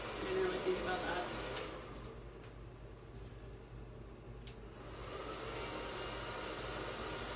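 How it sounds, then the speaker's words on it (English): A handheld blow dryer runs while styling hair, its steady airy whoosh and motor whine holding close and constant, the pitch shifting slightly as it is moved around the head, with a brief clatter partway through and no speech. "I hope you guys can hear me over the blow dryer."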